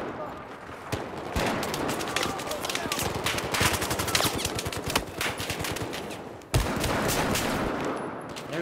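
Dense automatic gunfire from the shooter game Battlefield 4 rattles almost without pause, with rapid bursts, sharper shots and a brief gap near the end, loud and close, while a voice talks underneath.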